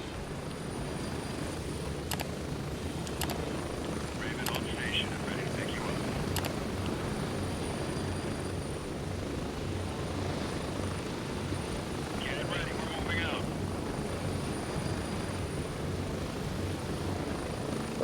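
A helicopter coming in to land in the Gray Zone Warfare video game, its steady rotor and engine drone constant throughout, with a few sharp clicks and brief chirps overhead.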